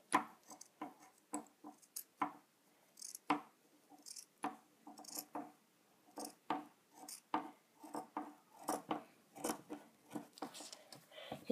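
Scissors snip through shirt fabric as it is trimmed to size, a rapid series of close, crisp cuts with short pauses between bursts, no talking over them.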